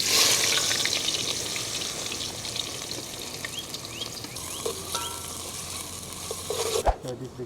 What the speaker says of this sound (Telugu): మస్త్ నూనె గరం అయింది. ఉల్లిగడ్డలు వేసుకుందాం.